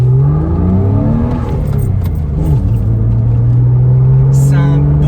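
A Porsche Boxster S 986 engine revs up hard with a throaty, aggressive note, its pitch climbing and falling and then holding steady at a loud, close, sustained level, with a voice speaking briefly over it.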